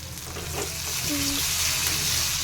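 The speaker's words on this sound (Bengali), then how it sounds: "প্রথমে পেঁয়াজগুলোকে তেলের ওপরে ভেজে নিলাম মাছ ভেজার তেলই বেঁচে ছিল ওই তেলই করে নিলাম" Onions frying in oil left over from frying fish, a steady soft sizzle with a brief stir near the middle, close and continuous with no talking.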